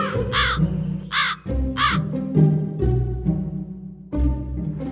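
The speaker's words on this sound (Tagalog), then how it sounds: "mabilis nang nakalipad ang uwak" Several harsh caws from a crow ring out close by in short bursts, with pauses between calls and a low hum underneath.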